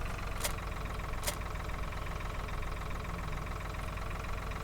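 A steady tractor engine idles and drones in Farming Simulator 2013. The low mechanical hum is continuous and even, with two brief high hissing bursts near the start and no talking.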